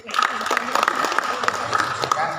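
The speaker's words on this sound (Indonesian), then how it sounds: "Para penggerak, tepuk tangan penggerak." Clapping from an audience at a school-program evaluation gathering rings out in a busy hall, with uneven, punchy claps rising and falling and mixing with chatter and voices.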